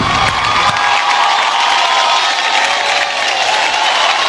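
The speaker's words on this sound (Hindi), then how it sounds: "इस टीम के लिए जोरदार तालियां होनी चाहिए" An audience bursts into loud, sustained applause and cheering with whoops for the team behind a drama series winning a TV award, a dense crowd roar filling the hall without a break.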